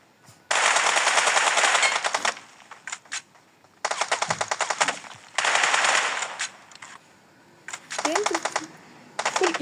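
Automatic gunfire in the mobile game PUBG Mobile comes in several long, rapid bursts separated by short gaps, loud and close, with a few brief extra clicks and blips between bursts.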